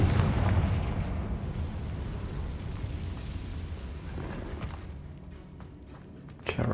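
Confringo spell blast in Hogwarts Legacy, a heavy fiery explosion that booms loudly at the start and then rumbles on for several seconds, ending with a sharp crack near the close.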